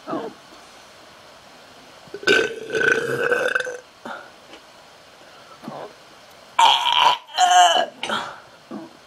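A person lets out several loud burps in a burping contest: two long, drawn-out belches, a short one between them, and a squeaky, squealing one near the end.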